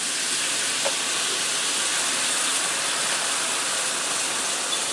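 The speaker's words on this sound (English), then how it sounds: "Now I'm going to add a cup of beef broth in here." Beef broth poured into a hot skillet of butter and cornstarch, giving a steady, even sizzling hiss that runs unbroken and fairly close.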